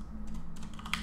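Quick, light keystrokes on a computer keyboard, several soft clicks in an uneven run ending in a slightly sharper tap, close and fairly quiet.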